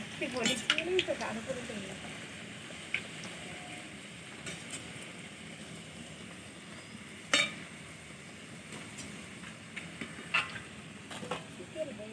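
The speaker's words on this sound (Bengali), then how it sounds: "এদিকে কি সুন্দর লুচিগুলো ফুলছে শুধু দেখো পুরো কড়া ভর্তি ভর্তি হয়ে যাচ্ছে" Luchi deep-frying in oil in a kadai gives a soft, continuous sizzle with occasional crackles and pops, mostly under someone talking.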